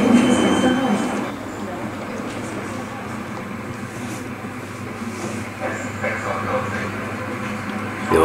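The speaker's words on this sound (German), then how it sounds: "das ist hier ein S-Bahn-Zug der älteren Generation." Older-generation Berlin S-Bahn train in a station, its rumbling and rolling noise running steadily throughout, with a louder burst at the start and a person talking over it.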